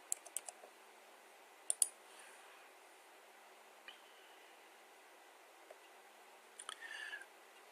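A few sparse keystrokes on a computer keyboard as a payment amount is entered, faint clicks in small clusters separated by quiet gaps.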